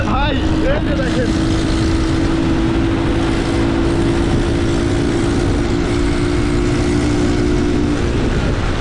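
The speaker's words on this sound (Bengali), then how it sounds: "আর একটা বাইক যে সাউন্ড করে রে ভাই" A motorcycle engine on a busy street in Pakistan with a local bus nearby, a loud steady drone that holds throughout amid traffic noise, with someone talking over it.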